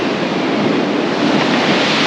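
Sea waves breaking on a beach in front of a resort at Trivandrum, a loud continuous roar of surf blended with heavy wind buffeting the microphone, no speech.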